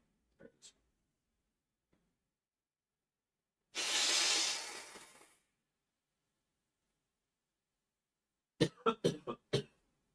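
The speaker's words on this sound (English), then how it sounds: "I gotta blow my nose" A man blowing his nose: one long, forceful, breathy honk lasting over a second, with a few short throat noises before it and a quick burst of coughs or snorts afterward, all close and dry.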